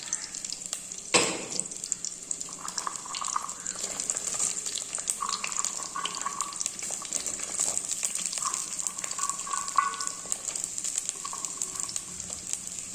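Shallots and garlic sauté in a pan for a Tamil fish curry, giving a steady, close hiss of sizzling with a sharp clatter near the start and faint stirring throughout.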